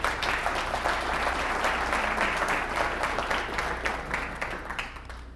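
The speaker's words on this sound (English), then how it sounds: "Again, let's give Tom a round of applause." An audience at a city council State of the City presentation gives Tom sustained applause, dense clapping holding steady for several seconds before gradually tapering off.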